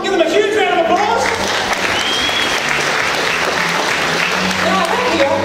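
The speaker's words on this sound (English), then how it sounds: "Give them a huge round of applause." Audience applause at a live magic show, dense steady clapping from a full room that holds strong for about five seconds, loud and close, with faint voices mixed in.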